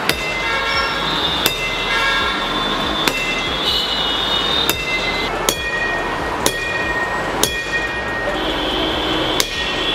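A baseball bat strikes the windshield of a Ford Endeavour again and again, sharp loud whacks at roughly one-second intervals over a constant background rumble, with no voices between the blows.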